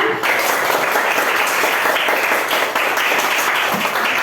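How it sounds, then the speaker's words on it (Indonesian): Schoolchildren in a classroom clap together at their teacher's request, a loud, continuous stretch of energetic applause that starts abruptly and keeps its strength to the end. "mari kita berikan tepuk tangan yang paling meriah untuk kita semua"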